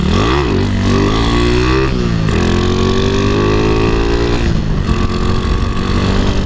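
A Honda Wave 125 motorcycle fitted with a non-electrode spark plug is ridden on a test drive, its engine loud and close, revving up and easing off repeatedly as the rider shifts through the gears.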